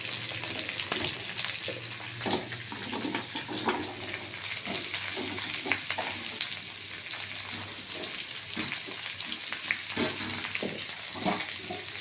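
Pumpkin pieces with grated garlic fry in a pan, a steady hiss with soft crackles and occasional stirring clicks, close and even throughout with no talk.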